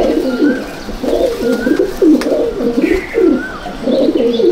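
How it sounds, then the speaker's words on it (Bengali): Teddy pigeons of the Salara teddy line coo in a home loft in Icchapur, North 24 Parganas: a close chorus of repeated low, throaty coos in steady rolling bursts, with a few higher chirps. "এইটা আমার বাড়ির টেডি পায়রা"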